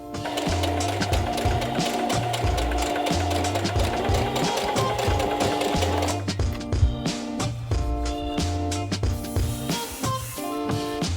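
A sewing machine runs steadily as it stitches a dart on a thrifted garment's neckline, with a continuous motor whir and fast needle chatter that shifts slightly in pace partway through, loud and close with no talking.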